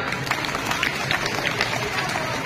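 An audience claps and applauds at a Marathi talk on Sant Dnyaneshwar, with steady, dense clapping lasting throughout.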